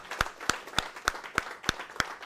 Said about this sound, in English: for a bigger round of applause